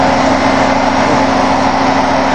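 A 1988 Ford F150 parts truck that has sat for three months runs just after a cold start: a loud, steady engine rumble with a fast idle, close up and uninterrupted.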